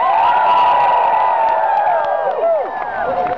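A large crowd gathered at the Olympic Winter Games cheers and shouts loudly and continuously, with excited whoops and overlapping voices rising over a dense, steady roar.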